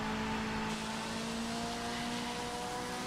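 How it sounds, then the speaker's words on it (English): Mazda race car in Project Motor Racing holding a steady engine drone with a turbo-like tone, a constant sustained note at moderate level with no talk over it. "Mazda sounds turbo."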